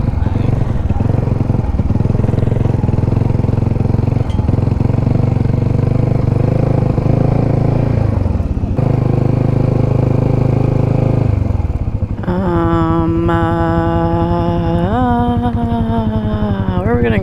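Motorcycle engines idle and rumble close by in a free parking lot at a handbuilt motorcycle show in Austin, Texas, with a steady low drone that shifts to a higher revving whine near the end.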